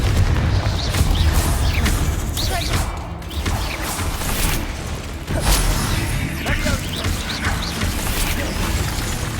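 Confringo fire spells blasting in Hogwarts Legacy, several booming explosions and whooshes spread across a busy fight, loud and close, with some voice mixed in.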